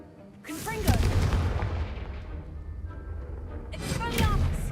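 A booming blast from a Confringo blasting spell thuds out with a heavy low-end rumble, followed by a lingering roar and a second impact near the end, with voices shouting around the blasts.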